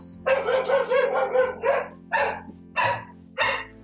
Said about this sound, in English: We might need to edit the dog out, sorry.